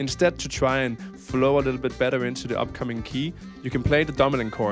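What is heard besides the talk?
No everyday noises stand out.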